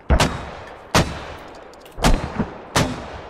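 Mortar rounds fire and land in the video game SQUAD, four sharp booming blasts spaced about a second apart, loud and close with short decaying tails.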